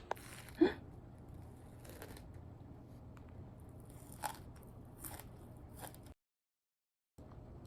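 Crisp bites and crunches of a Dubai chocolate cookie, a sharp one early then several softer crunches, close and quiet, followed by a brief silence.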